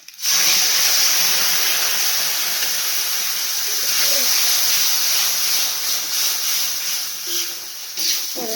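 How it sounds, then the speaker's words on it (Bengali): Spices with a splash of water frying in a pan for ghugni, a loud hissing sizzle that starts abruptly and holds steady, easing slightly toward the end with a few stirring knocks. "সব একসঙ্গে ভালো করে ভাজি নিয়ে জিরার গন্ধটা হটাবো, সব কষ্টা গন্ধ হটাবো"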